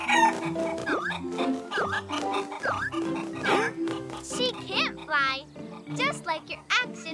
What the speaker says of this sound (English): Look, a chicken.